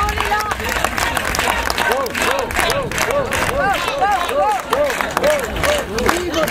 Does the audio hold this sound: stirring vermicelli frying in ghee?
no